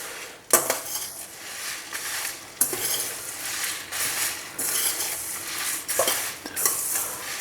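Spices for achari masala dry-roast in a pan while being stirred, with repeated scraping sweeps and sharp metallic clinks of a spoon against the pan over a soft, steady crackle, close by and with no talking.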